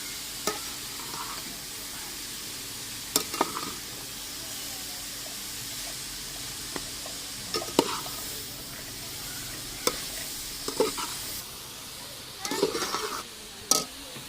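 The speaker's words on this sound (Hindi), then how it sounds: "अभी चमचा चलाएंगे ताकि नीचे ना पकड़े।" A spoon scraping and stirring grated carrots for carrot halwa in a pot, a soft background hiss broken by irregular short clinks and scrapes against the metal, with occasional quiet speech.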